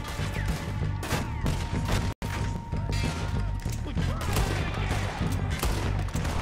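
Rapid, loud gunfire in Red Dead Redemption 2, with dense overlapping shots in a near-continuous volley, a momentary cut of silence, then more sustained firing.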